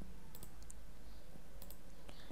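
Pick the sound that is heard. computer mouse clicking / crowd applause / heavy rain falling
computer mouse clicking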